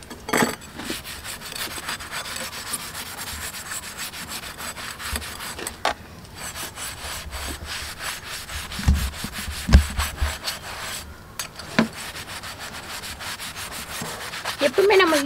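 An iron paniyaram pan is scrubbed by hand, giving a dense, continuous rasping scrape with uneven rhythmic strokes, close and fairly loud with no talk.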